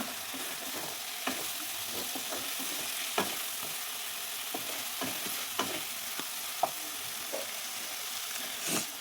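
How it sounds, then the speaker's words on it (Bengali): Spice paste stir-fried in oil while cooking tomato rohu fish curry, with a steady faint sizzle broken by repeated sharp spatula scrapes and taps at uneven intervals, close by with no voices. "এবার এটাকে ভালো করে কষিয়ে নেবো তেল ছাড়া পর্যন্ত"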